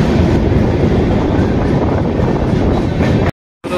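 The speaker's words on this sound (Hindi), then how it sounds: "देखिए फाइनली 1/2 घंटे की देरी से हमारी ट्रेन बख्तियारपुर के 1 नंबर प्लेटफॉर्म से निकल चुकी है" Inside the Rajya Rani SF Express as it pulls out of Bakhtiyarpur platform 1, a loud, dense rumble of rolling train noise fills the carriage, steady and close, cutting briefly to silence near the end.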